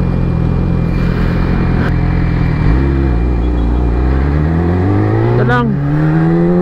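A 2020 Yamaha R6 motorcycle with an Akrapovic exhaust idles and rises in pitch as the engine is revved, a loud, close, continuous drone that climbs steadily toward the end.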